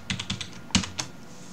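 Quick, light keystrokes on a computer keyboard come in a short irregular burst of about six taps, close and fairly quiet, with no speech.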